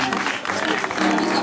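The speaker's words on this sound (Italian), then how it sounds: "Direi di accoglierli con un grande applauso." An audience at a village festival with a live orchestra applauds to welcome Davide Trotta and Annalisa Tassi, a short dense burst of clapping with voices talking over it.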